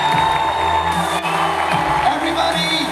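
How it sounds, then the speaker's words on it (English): A large convention audience at the FanX 2016 panel in Salt Lake City cheers, whoops and applauds for Kate Beckinsale, a loud, dense, continuous roar of voices and clapping lasting the whole stretch. "A round of applause."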